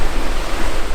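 Calm sea waves at Cap Blanc-Nez on a day with little wind and no swell, a steady close wash of surf noise with no distinct breaking crashes and no voices.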